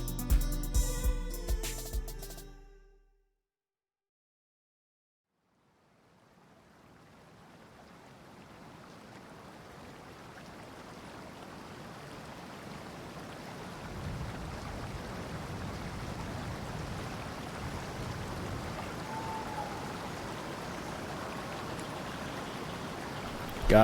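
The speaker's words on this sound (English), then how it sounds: "You wake up to the sound of a peaceful running river." A peaceful running river rushes in a steady, broad wash of flowing water that fades in after a short burst of other sound and a few seconds of silence.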